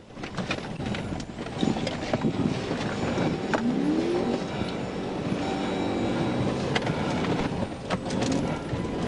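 A car spins around in dirt during a high-speed police chase, with a rough, fluctuating engine roar and scrabbling tyres that rise and fall. The sound carries a distant, somewhat muffled quality, with scattered knocks and scraping noises.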